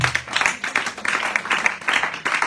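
A congregation claps and cheers in praise of the Lord during a prayer night, a dense, continuous wash of applause with no pauses.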